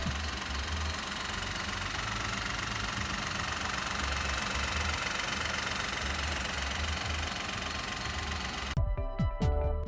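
A 1-litre turbo petrol engine in a 2020 Hyundai Venue DCT starts and runs close by with a steady, slightly knocking idle hum, followed by a few sharp clicks at the end.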